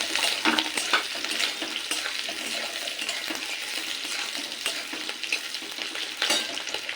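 Onion and capsicum sizzle in hot oil for chilli soyabean, a steady crisp frying hiss with occasional spatula stirs and small spatters, close and even, with no voices.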